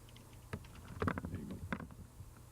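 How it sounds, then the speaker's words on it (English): Rapid clicking keystrokes on a computer keyboard, a quick irregular burst of taps of moderate loudness with a faint steady hum beneath. "They're typing."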